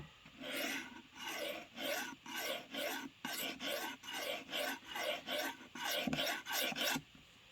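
Knife blade drawn repeatedly across a Work Sharp field sharpener, giving about a dozen close, even rasping strokes in steady rhythm with brief gaps between them, no talking.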